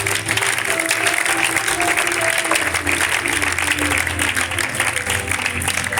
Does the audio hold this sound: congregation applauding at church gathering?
yes